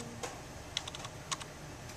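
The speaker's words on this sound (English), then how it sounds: "you're gonna use the keyboard and you are going to type what you want it to to be Q" Keystrokes on a computer keyboard typing a short cue name, several quiet clicks spaced irregularly across two seconds over a faint room hiss.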